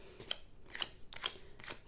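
Tarot cards drawn and flipped during a reading, four short crisp papery snaps spaced evenly at close range, with no talking.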